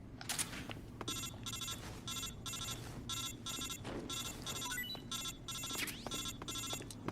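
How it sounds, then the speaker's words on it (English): A telephone rings in the video game Metal Gear Solid 3, a rapid repeating electronic trill in regular bursts over quiet background ambience, fairly faint overall. "Now I gotta call the phone number."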